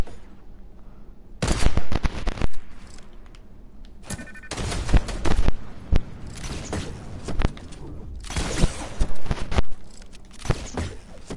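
Rifle fire crackles through a video game battle in several loud, rapid bursts of shots, broken by brief quieter gaps with faint movement between them.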